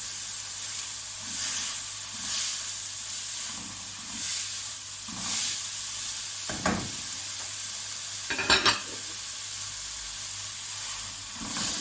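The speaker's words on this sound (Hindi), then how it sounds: "अच्छी तरह मैं इसकी बुनाई करूंगी" Whole and ground cumin with coriander powder frying in oil for spicy keema paratha, a continuous loud sizzle with scraping stirs and a couple of sharper clatters of the spoon against the pan.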